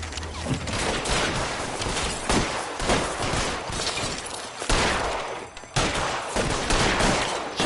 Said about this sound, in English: Shots fired all around.